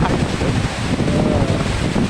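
Khlong Lan waterfall in Kamphaeng Phet, Thailand: a steady, loud, broadband rush of falling water mixed with wind buffeting the microphone, continuous and unbroken with no talk.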